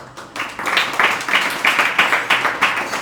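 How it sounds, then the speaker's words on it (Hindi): Rhythmic clapping from an audience at a Jain religious discourse; a run of evenly spaced group claps, about two per second, moderately loud and close, following a brief opening sound. "आपने पहले भी ताली बजाई थी"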